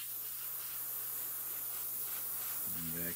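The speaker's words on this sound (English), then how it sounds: "because we're gonna spray that blue in there anyway" An airbrush or spray can hisses steadily while blue paint goes onto a Revell 1/48 scale F4U Corsair model kit, a constant close hiss with a low hum underneath and a brief tonal shift at the end.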